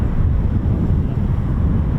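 Gusty wind buffets the microphone at RAF Coningsby airfield, a steady low rumbling roar that fills the whole stretch with no voices.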